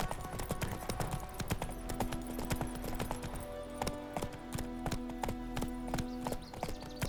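A horse gallops in the Witcher 3 video game, with fast, loud hoofbeats clattering close in a steady galloping rhythm under a low sustained tone, without speech.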